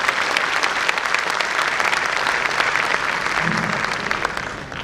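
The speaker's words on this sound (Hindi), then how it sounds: "एक बार जोरदार तालियां चेतन चर्चित" Audience at a Hindi kavi sammelan poetry gathering claps loudly for poet Chetan Charchit, a full, continuous burst of applause that tapers slightly at the end.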